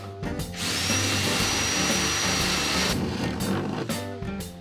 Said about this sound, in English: Once that's complete, I bore from the inside out at all 4 corners.